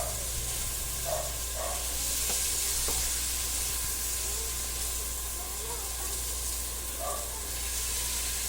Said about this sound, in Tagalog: Gisa po natin ng maigi.